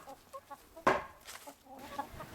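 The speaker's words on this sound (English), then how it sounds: "Chicken birds. Are you keeping things stirred up out here?" Backyard chickens clucking outdoors, a few soft scattered calls with one louder burst of squawking in the middle, fairly close and without talk.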